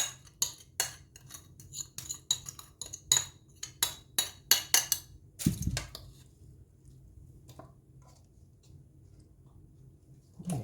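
A spoon scrapes and clinks against a bowl in quick, irregular strokes for several seconds while potato salad is mixed, then goes mostly quiet.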